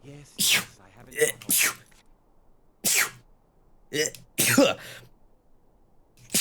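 A person sneezes several times in a row indoors, loud bursts spaced by short pauses, with a brief spoken word among them.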